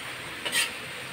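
Onion frying in a pan gives a steady bright sizzle with a brief scrape of stirring midway; short and close, with no voices.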